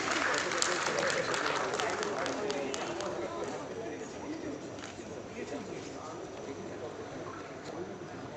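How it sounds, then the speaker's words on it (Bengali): An audience at an astrology conference claps, a crowd's rapid patter of applause that starts strong and slowly thins out over several seconds, heard in a large room. "আমরা সবাই মিলে একটু জোরে হাততালি দেবো।"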